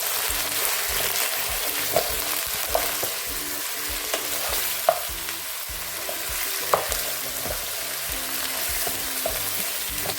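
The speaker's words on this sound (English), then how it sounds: "Now I'm going to add the beef in." Beef sizzles in a hot pan for egusi soup, a steady close hiss broken by occasional sharp spatters and the scrape of stirring, with no talk.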